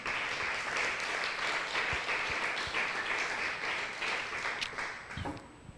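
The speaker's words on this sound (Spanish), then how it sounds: "¿Cuántos aplauden el nombre del Eterno?" Audience applause in a congregation during a religious teaching, a dense sustained wash of clapping that swells and then slowly tapers toward the end.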